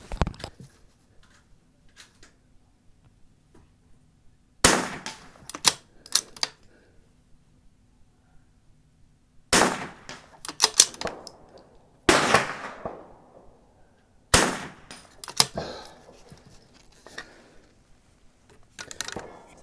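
Rifle shots ring out on a timed NRL22 match stage, sharp, loud reports spaced several seconds apart, each followed by a brief decaying ring and some clinking, with quiet in between.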